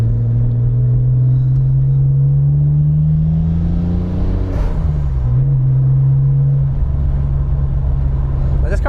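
A JDM Honda Legend on a stock tune drones and revs from inside the cabin while driving, a steady loud low engine hum that climbs, dips briefly, then settles under constant road rumble.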